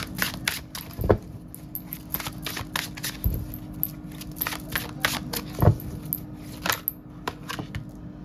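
Tarot cards being shuffled and handled for a guidance reading, heard as soft papery riffles and flicks with a few sharper slaps near the start and middle, fairly close and alone without talk.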